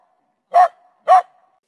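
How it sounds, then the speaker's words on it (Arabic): A dog gives two sharp, close barks about half a second apart, clean and loud against silence. "أحسنتم، إنه الكلب."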